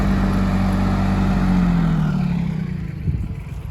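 A farm tractor engine idles and drones close by with a steady low rumble that softens slightly toward the end.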